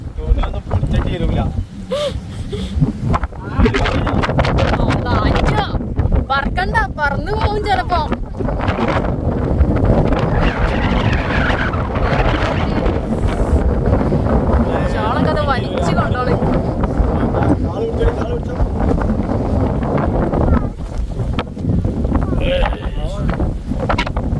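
Strong wind at a wind farm in Idukki buffets the microphone in loud, roaring gusts throughout, with voices talking underneath the blustery noise.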